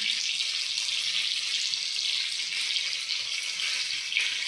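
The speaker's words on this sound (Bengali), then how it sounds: "আর এখানে যে মাংসটা ভাজা ভাজা করছি" Chicken satay meat frying in a pan, a steady bright sizzle with a crackling, hissing texture that holds evenly throughout, close and alone with no talk.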